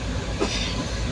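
A passenger train running past Bandel, heard from inside the carriage as a steady, loud low rumble with continuous rolling rail noise throughout.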